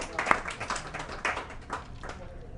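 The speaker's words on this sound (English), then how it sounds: "We'll give that second round of applause." A small audience claps at a sports talk show recorded at Cip's in Pittsburgh, loose uneven bursts of hand claps with talking woven through them.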